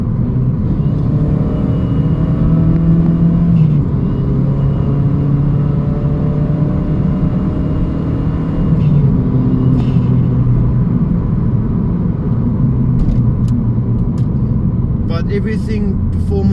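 A 2012 Chevy Spark's small engine drones loud and steady while racing, rising in pitch as it revs, with a constant road rumble underneath.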